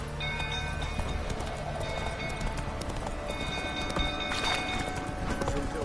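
A horse gallops in The Witcher video game, its steady clip-clop of hooves running continuously and fairly loud over a dense bed of game music and ambience, with a faint voice.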